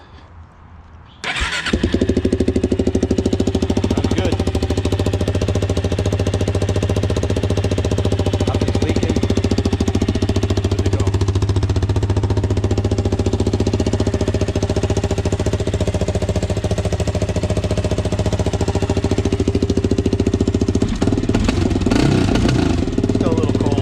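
Suzuki LTZ400 quad engine cranks and catches after a second of quiet, then settles into a loud, steady, close-up idle with a rough, knocking pulse that runs on without talk.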